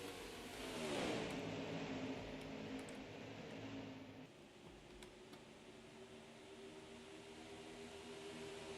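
Race cars in an oval-track racing video game during a Hollywood Casino 400 event, a steady engine whine that swells and passes early on, then a continuous mid-distance drone of motors with no talking.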